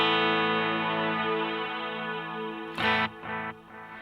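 A sustained guitar chord washes through a Strymon Cloudburst reverb pedal set to long pre-delay, fading slowly before a fresh strum rings out near the end and quickly decays into a short tail.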